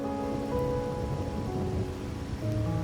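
Rain in the video game Wuthering Waves, a steady, dense hiss of falling rain with faint soft musical tones beneath, continuous and moderately loud, with no talking.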